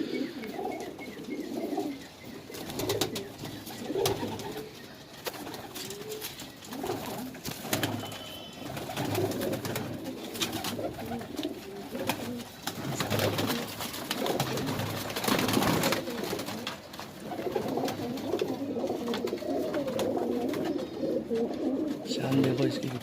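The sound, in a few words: Madrasi pigeons cooing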